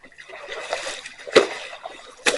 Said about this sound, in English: I hear flopping fins.